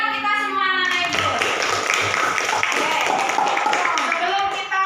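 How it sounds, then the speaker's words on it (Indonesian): Children clap in a classroom, rhythmic hand claps under a voice and a sung melody that carries through most of the stretch. "tepuk tangan buat kita semua anak-anak Ibu"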